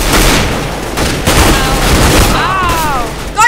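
Rapid gunfire bursts from the video game CS:GO during a hostage-rescue round, loud and continuous, with chirping whistle-like effects near the end.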